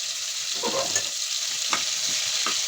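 Onion and green chillies fry in hot oil with bay leaf for mealmaker bagara rice, giving a steady close sizzle broken by a few soft stirring scrapes, with no talking.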